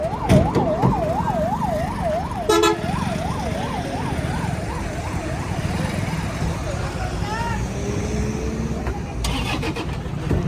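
An ambulance siren wails in a fast rising-and-falling pattern on a highway, heard from inside a moving vehicle over steady road and engine rumble, fading after a few seconds, with a horn blast and people talking nearby.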